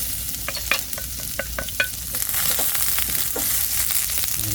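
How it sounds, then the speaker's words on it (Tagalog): Garlic and ginger sautéing in a hot wok, a steady close sizzle with sharp clatters of a spatula scraping and stirring through the first half, then a denser, even frying hiss. "Gisa na natin ang ating bawang at luya."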